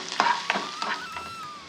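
Onion stirred in hot oil in a pan, a soft sizzle broken by a few quick scraping stirs, close and fairly quiet over a brief stretch.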